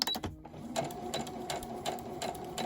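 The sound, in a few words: sewing machine sewing slowly along the line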